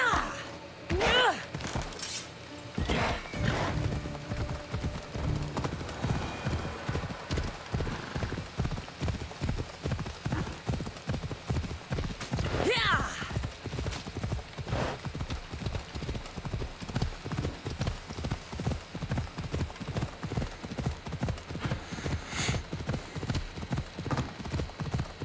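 Horse hooves clip-clopping at a steady trot in Assassin's Creed Odyssey, a long run of regular, close hoofbeats with a faint whinny and game ambience, no talk.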